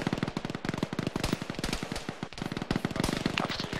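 Dense, rapid gunfire in a ShackTac military video game, bursts of automatic fire and overlapping shots rattling almost continuously, loud and close, with no talk over it.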